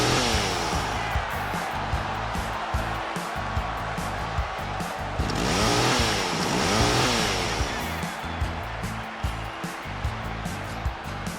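A chainsaw revs repeatedly during a wrestler's ring entrance in WWE 2K25, its whine rising and falling in loud sweeping bursts over a busy arena backdrop.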